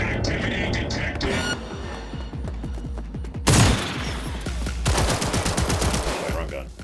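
Rapid bursts of automatic gunfire crackle loudly in the video game Cyberpunk 2077, dense volleys of shots stacking up over several seconds with a sharp surge midway.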